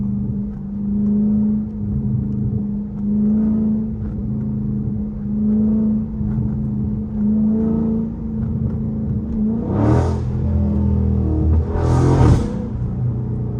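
A Scat Pack 392 accelerating hard on a rainy night at 3 AM, heard from inside the car: a loud, steady engine drone rises through repeated pulls, with two sharp revving surges near the end.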